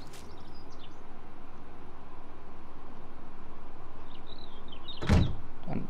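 A door shutting inside the video game 7 Days to Die: one sharp, loud thud near the end, over a steady low ambient background with faint chirps.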